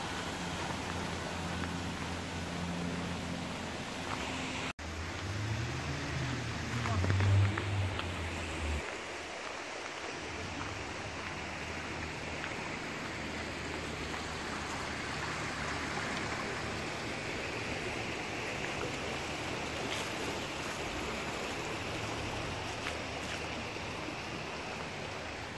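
Small creek flowing beside a walking path, a soft continuous rushing of water heard at low level throughout, with a brief low rumble and faint bumps early on.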